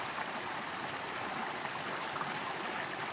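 Water runs in a soft spring-fed stream, a steady faint broadband rush with no voices.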